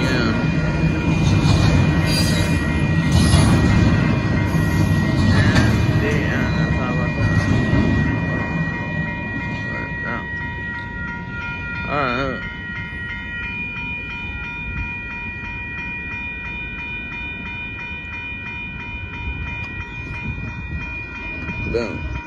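A Union Pacific mixed freight train with a mid-train DPU locomotive rolls past close by in Austin, Texas, a heavy rumble and clatter that is loudest early, then settles into a steady roll with faint metallic squeals.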